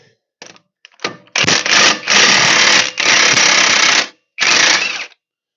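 A heavy-duty impact wrench hammers on the CV axle nut of a Silverado 2500 truck in loud, close bursts, a few short taps followed by three sustained rattling runs separated by brief pauses.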